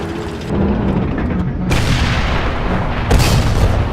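A KV-220 tank cannon fires in a tank combat video game, with a few loud, booming shots and heavy rumbling between them.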